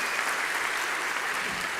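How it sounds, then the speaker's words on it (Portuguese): A church congregation at a Lagoinha worship service applauds a young man. The steady, dense clapping fills the room with no break. "Vamos aplaudir esse moço que fica lá em cima."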